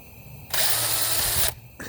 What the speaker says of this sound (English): a drill on occasion, and that will help smooth that down quite a bit